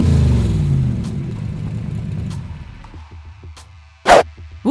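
A car engine fires after hotwiring and settles into a rumbling run that fades to a low idle, with a sharp burst near the end.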